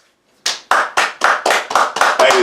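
A handful of people clap in a quick, uneven rhythm, about eight sharp close claps in a row, during a casual podcast chat celebrating a subscriber milestone.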